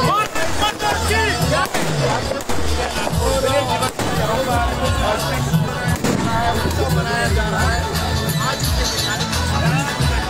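Fireworks and firecrackers burst during a public celebration in Jammu, sharp cracks and pops scattered through a constant crowd hubbub, with people talking throughout.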